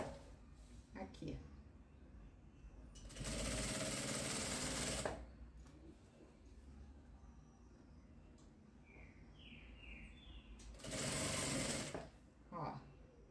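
A sewing machine stitches a fabric strip for a beginner's patchwork bag in two loud, close bursts of fast whirring a few seconds long, with quieter handling sounds in between and faint birdsong in the background.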